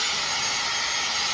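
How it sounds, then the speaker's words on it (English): A Mr.ego portable car vacuum cleaner running at full power gives a loud, steady, close whooshing motor roar with strong airflow hiss, heard alone for a brief moment. "One side sucks and one side blows"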